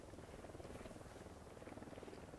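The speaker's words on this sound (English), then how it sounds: "Chopper overhead." Helicopter flying overhead in the video game Ghost Recon Wildlands: a faint, steady rotor drone with a rapid pulsing beat throughout, distant and low in level.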